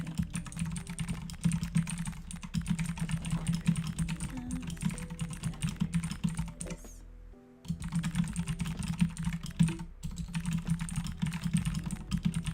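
Fast, steady clacking of keys on an RGB mechanical keyboard, close up and without talk, with one brief pause midway before the typing resumes.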